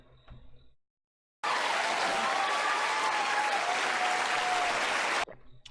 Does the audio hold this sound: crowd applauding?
yes